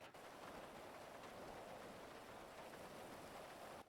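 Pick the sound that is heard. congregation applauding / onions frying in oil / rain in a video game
rain in a video game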